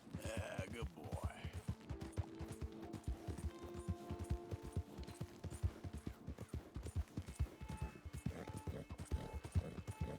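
Galloping horse in Red Dead Redemption 2, its hooves thudding in a quick continuous rhythm close by, layered with steady game music tones and some background noise.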